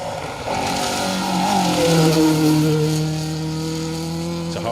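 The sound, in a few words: 2-litre Ford Escort rally car racing past on stage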